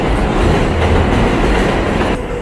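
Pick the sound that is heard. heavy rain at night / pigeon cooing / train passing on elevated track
train passing on elevated track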